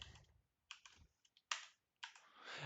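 Quick bursts of typing on a computer keyboard, short clusters of close, crisp key clicks separated by brief pauses, quiet with no voices.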